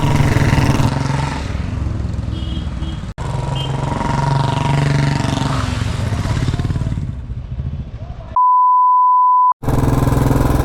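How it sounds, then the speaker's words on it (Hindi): Motorcycles ride through queued traffic, engine noise droning close throughout, with a long steady beep tone near the end. "हम अपनी बाइकों से इनको ओवरटेक करते हुए निकल रहे हैं"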